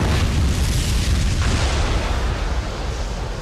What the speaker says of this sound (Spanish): La explosión libera una energía colosal y genera ondas expansivas.